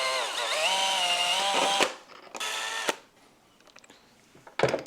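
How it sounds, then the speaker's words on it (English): A power tool whirs steadily as it backs out two screws holding the dash of a Tenere 700 motorcycle. A long run is followed by a shorter burst, then a brief final spin, all close up. "So I'm just going to remove these two screws here, holding on the dash."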